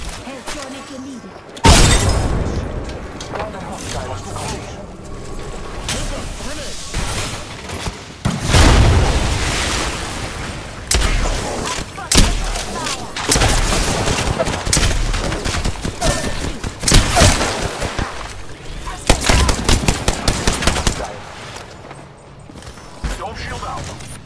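Apex Legends firefight with dense bursts of rapid gunfire, booming impacts and shattering shield hits, loud and continuous, with a voice calling out over the shooting.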